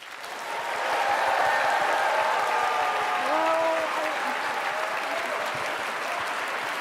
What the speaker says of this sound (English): What if we gave you a round of applause as our favorite god?